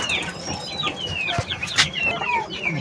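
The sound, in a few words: Lasani rooster and hen clucking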